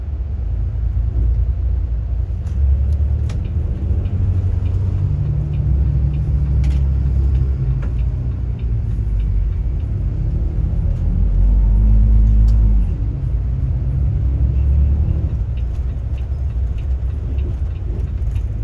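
Heavy traffic on a zigzag mountain road in Cagayan Valley, heard from inside a first-class bus: a steady, loud low engine rumble and road drone that swells and eases throughout, with no talk.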